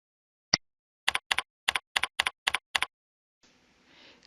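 Keystrokes on a computer keyboard while a zero is entered into an amount field: one isolated tap followed by a quick run of about eight crisp, evenly spaced presses, close and clear, then faint room hiss.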